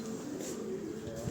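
Pigeons coo softly and continuously at close range, a low rolling murmur with wind noise in the background on a stormy night.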